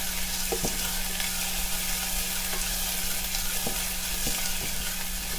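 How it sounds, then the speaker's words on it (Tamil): Green chilies and curry leaves sautéing in hot oil with onions for a cabbage gravy, giving a steady close sizzle with a few soft stirring clicks and scrapes, no talking. "அப்புறம் கட் பண்ணி வச்சுருக்க 2 பச்சை மிளகாய் இதையும் சேர்த்து நல்லா வதக்கணும்."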